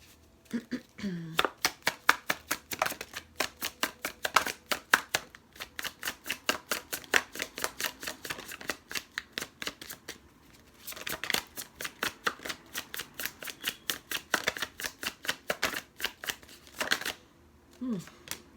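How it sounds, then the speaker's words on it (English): Oracle cards being shuffled by hand, a long run of rapid, rhythmic riffling flutters in quick bursts, close and fairly quiet, with a brief pause near the end. "I'm going to pull some clarifying cards using the Untamed Oracle Truth."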